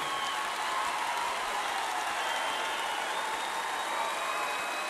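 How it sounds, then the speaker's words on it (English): A packed Grand Ole Opry House crowd gives a standing ovation with dense, continuous applause that holds steady and loud for the whole stretch. "that is the sound of a standing ovation in the Opry House"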